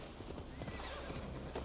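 A horse in an Assassin's Creed game snorts and clops briefly, a short close burst of hooves and breathy whinnying sounds.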